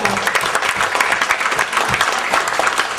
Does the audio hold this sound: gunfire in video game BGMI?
no